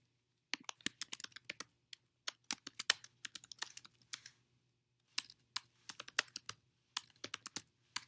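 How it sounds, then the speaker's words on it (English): Rapid clicks from a computer keyboard come in quick bursts with short pauses, crisp and close in an otherwise quiet room. "I cannot type today"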